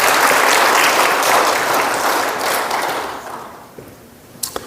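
An audience applauding together, a loud dense burst of clapping that tapers away over a few seconds to a few scattered final claps.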